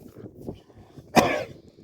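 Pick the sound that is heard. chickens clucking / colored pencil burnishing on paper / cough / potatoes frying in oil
cough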